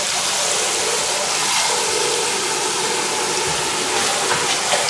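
Water gushes steadily as a sluice bucket is rinsed out during a gold-prospecting cleanout, a continuous loud splashing hiss close by, with no talk.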